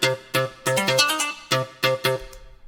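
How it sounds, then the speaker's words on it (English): A sampled electronic-sounding guitar lead, dry with no effects, plucks a short choppy rhythmic figure of bright repeated notes, close and clear, with no talking. "This is a type of guitar sampled"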